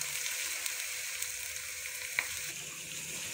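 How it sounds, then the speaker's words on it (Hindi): Chicken liver frying with onions in a pan, a steady bright sizzle with soft crackles and an occasional spatter pop, close and continuous with no talking. "ताकि कलेजी इसके साथ अच्छे से फ्राई हो जाए।"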